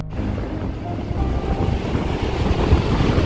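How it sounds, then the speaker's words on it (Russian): Steady, powerful wind roars across an open sea shore, blending with rushing surf in a continuous low rumble. "Очень ветрено."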